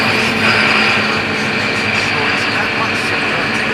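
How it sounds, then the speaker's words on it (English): A cold six-cylinder engine, likely a digger's, idles with a steady low rumble and rattle, and a person talks over it. "It's a bit cold this morning, the engine, you can hear."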